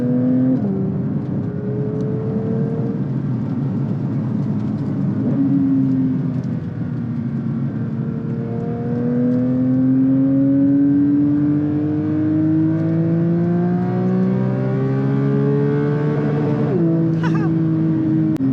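A Porsche 911 GT3 Touring engine revs repeatedly toward 9,000 RPM, rising wails that climb, drop with gear changes and climb again, loud and close with a long sweeping pull near the end.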